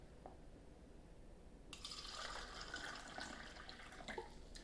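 Kool-Aid poured from a pitcher into cups, a quiet room that gives way partway through to a continuous liquid pour lasting a couple of seconds, with a small clink near the end.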